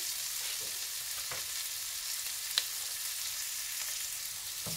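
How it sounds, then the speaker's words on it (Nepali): Asparagus frying uncovered in a pan gives a steady, moderately quiet sizzle with a few faint stirring clicks and scrapes, and no talking. "स्पारोगस चाहिँ भुटिएर यतिको भइसकेको छ।"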